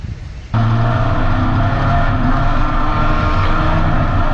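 A dirt track race car's engine roars loudly and steadily during a late-night feature race, kicking in suddenly after a brief quiet start and holding a dense, sustained drone with slight pitch shifts.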